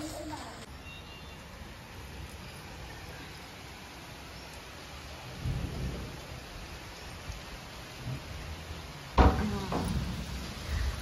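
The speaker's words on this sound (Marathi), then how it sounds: "आज तर सकाळपासूनच पाऊस" Heavy village rain pours steadily in a dense, even hiss, broken by a low rumble of thunder midway and a sharp crack near the end.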